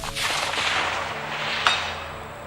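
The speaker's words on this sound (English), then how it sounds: "First shot with this fucker at distance." A rifle in 6 ARC Wildcat 22 DPC fired outdoors at a target 500 yards away: a broad roaring blast that rolls on as a sustained rumble, followed by a sharp distant crack of impact, with no talk.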